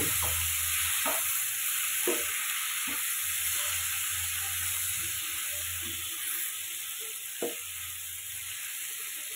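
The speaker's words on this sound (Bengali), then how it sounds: "এখন দিয়ে দিচ্ছি কুমড়ো আলু ভাজাটা দিয়ে আমি 5 মিনিট কষিয়ে নেব আবার" Fried pumpkin and potato are stir-fried in a pan, a steady sizzle and hiss running throughout with intermittent scrapes and clacks of a spatula against the pan.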